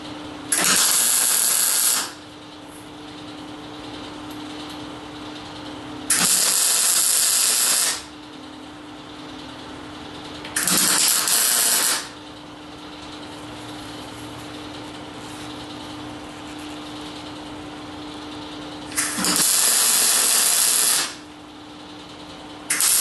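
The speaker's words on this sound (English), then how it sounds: "anything I don't want, I'm just going to chop off with the plasma torch" A plasma torch cutting through a steel tube gives a loud, harsh hiss in four separate bursts of about two seconds each, with a low steady hum from the machine running between the cuts.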